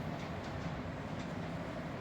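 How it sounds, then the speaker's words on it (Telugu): A Vande Bharat train running between stops near Vizag, heard from inside as a steady, continuous rumble with faint rhythmic wheel noise and no speech. "మా Vande Bharat first time Vande Bharat train journey అండి."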